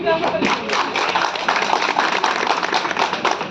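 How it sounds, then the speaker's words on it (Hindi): A crowd claps steadily, a dense burst of many hands applauding at once, fairly close and loud, sustained throughout, at an outdoor street play. "अगर आपको नाटक अच्छा लगे तो प्लीज़ एक बार ताली बजाइए"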